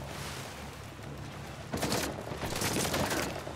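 Shotgun pistol blasts in Uncharted 4 gameplay: a burst of loud, rapid gunfire starting midway and continuing as a dense fusillade over a steady background.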